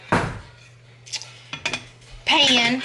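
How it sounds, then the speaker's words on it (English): A metal lid set onto a bread pan makes a few sharp clanks and rattles, followed by a louder ringing clatter near the end, with a voice speaking in between. "I'm going to put the lid on it and leave it cracked just a little bit right here"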